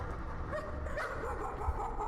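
A dog whimpering and yipping inside the horror video game Layers of Fear, faint and short, a few soft whining cries over a low ambient backdrop.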